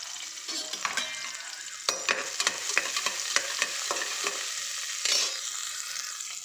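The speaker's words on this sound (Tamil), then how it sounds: "கொஞ்சமாக எண்ணெய் ஊற்றி வெங்காயமும் தக்காளியும் வதக்கிக்கலாம்." Onions and tomatoes sautéing in a little oil for sambar rice, a soft steady sizzle with a run of quick spatula stirs and taps against the pan, close by.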